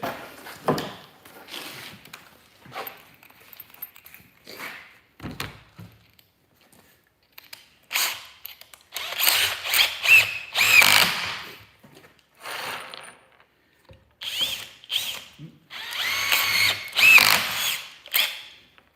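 An M12 cordless power drill whirs in short bursts of varying length, with pauses between, recorded fairly close in a live-streamed workshop setting.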